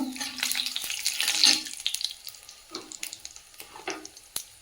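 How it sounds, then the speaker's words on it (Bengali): Whole garam masala, bay leaf and cumin seeds sizzle and crackle in hot oil, a close, uneven frying hiss with a few sharp pops and light utensil clatter. "দিয়ে দেবো গোটা গরম মশলা তেজপাতা গোটা জিরে সামান্য"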